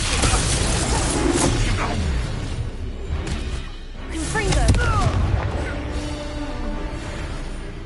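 An Incendio fire spell in Hogwarts Legacy bursts with booming, whooshing blasts amid combat noise, with voices speaking through the clip.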